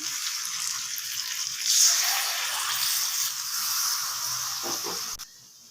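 Water hits a pan of frying loitta dried fish with onion, ginger and garlic, raising a steady broad steamy hiss that swells briefly near the two-second mark and cuts off sharply near the end.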